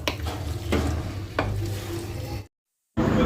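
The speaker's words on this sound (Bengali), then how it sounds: "ভাজা ক্যাপসিকাম সব মশলার সাথে ভালোভাবে মিশিয়ে দিচ্ছি" A spoon stirs fried capsicum into spices in a pan. Several quick scraping strokes run over a low sizzle before a brief silence, then the sizzling picks up again.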